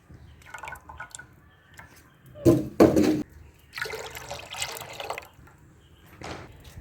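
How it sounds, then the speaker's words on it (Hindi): Tamarind pulp is poured into a kadhai, giving a few wet, splashing pours and drips, close by and moderately loud, with short pauses between. "अब ये पल्प जो निकाला था वो मैं कढ़ाई के अंदर डाल देने लगी हूँ।"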